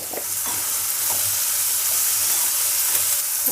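Salted tomatoes frying in a pan give a steady, close sizzle with soft stirring scrapes coming and going throughout.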